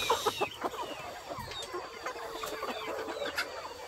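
Chickens cluck in repeated short bursts during a destructive thunderstorm, close and fairly loud, with several birds calling over one another and no speech.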